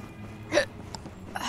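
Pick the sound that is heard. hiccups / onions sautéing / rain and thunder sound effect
hiccups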